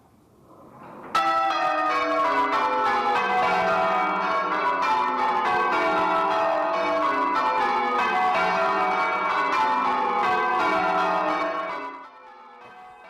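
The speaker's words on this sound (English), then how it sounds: "the Eckington church bells rang for half an hour" Church bells of Eckington peal continuously for around ten seconds, a rich overlapping ringing that fades out at the end.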